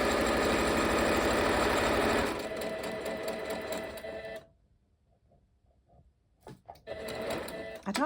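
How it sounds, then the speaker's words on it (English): A malfunctioning sewing machine whirs steadily in a loud mechanical run, then slows and stops, leaving near silence with a few faint clicks before the motor hums again. "I don't know what's wrong with this sewing machine."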